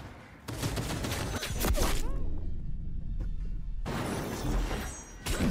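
Rapid gunfire bursts in the video game Cyberpunk 2077, loud and dense, with a brief lull in the middle before the shooting resumes.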